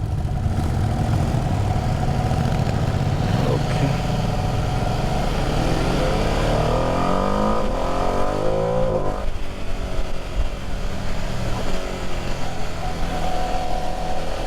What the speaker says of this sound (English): Pretty strong induction noise, which is great